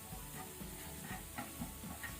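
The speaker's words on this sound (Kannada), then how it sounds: "ಇದನ್ನು ಸೇರಿ ಸ್ವಲ್ಪ ಫ್ರೈ ಮಾಡ್ಕೊಳ್ಳುವ" Masala fries in a pan as filling for stuffed squid, giving a quiet, steady sizzle with light stirring movements and faint hiss throughout, with no speech.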